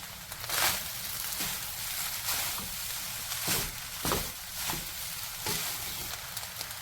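Chicken stock, salt and black pepper being stirred together in a kitchen, heard as a soft, continuous scraping and swishing with several brief louder strokes at an uneven rhythm.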